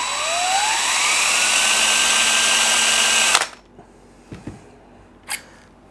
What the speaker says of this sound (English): Okay, so that's as fast as the drill goes, and I think that's about 2000 RPM